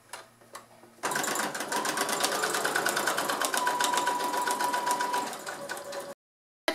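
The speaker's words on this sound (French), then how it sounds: "Maintenant je croise et je vais coudre les autres." A sewing machine stitches fabric for a glasses case, sewing crossing diagonal lines. After a short quiet start, the close, steady, rapid mechanical whir runs for about five seconds, then stops abruptly.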